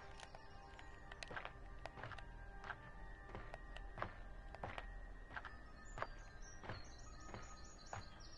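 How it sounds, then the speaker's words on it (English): Footsteps on wooden boards in the game Ether One thud at a slow, irregular pace, fairly quiet over a soft outdoor ambience of faint chirps and high tones. "My footsteps do not really match the surface that I'm walking on."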